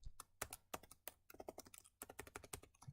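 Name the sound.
typing on a computer keyboard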